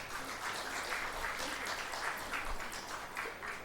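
Conference audience giving panelists and judges a round of applause, a sustained, moderately faint wash of clapping from a room crowd.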